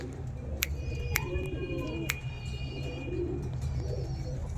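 Andhra pigeons being released, with soft cooing and a few sharp, crisp wing claps standing out over a steady low background hum, near and fairly clear.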